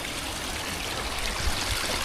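A river in New Zealand's Karamea area flows steadily nearby, a continuous broadband rush of moving water with soft trickling detail and no voices.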